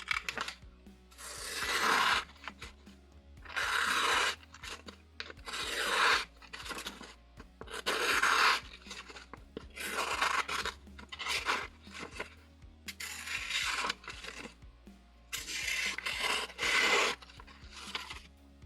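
An AliExpress knife blade cuts along a curved radius, giving repeated loud rasping, scraping strokes in bursts of about a second each, separated by brief pauses, with no talking.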